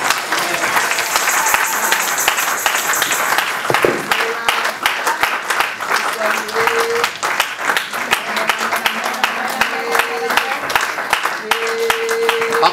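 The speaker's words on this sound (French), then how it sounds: "Applaudissez encore plus." A church congregation applauding during a seminar, dense sustained clapping with a voice speaking over it and brief organ or keyboard notes underneath.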